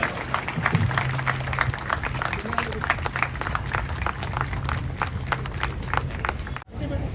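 Crowd at a BJP rally for the opening of a sports ground keeps up dense, sustained clapping for several seconds, with voices mixed in, before it briefly drops out near the end.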